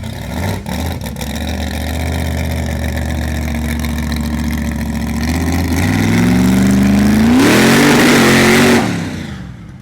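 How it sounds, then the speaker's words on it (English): Supercharged big block Chevy mud truck engine rumbling loud and close at idle, then rising through a couple of rising revs before suddenly cutting off near the end. "Pretty good feeling he's going for trans brake launch now."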